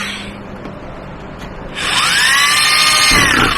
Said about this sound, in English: Try the step drill.